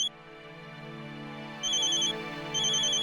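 A mobile phone rings for an incoming call, a steady electronic ringtone with sustained tones and two bright, beeping bursts repeating in a regular pattern. It is close and clear, with no talking.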